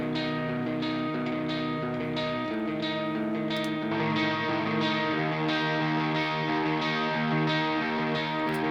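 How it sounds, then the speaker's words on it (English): A clean Gretsch Penguin electric guitar plays sustained chords with a bright, shimmering tone, with strummed attacks every second or so and no voices. "This is the Gretsch Penguin. Let's have a listen to how it sounds."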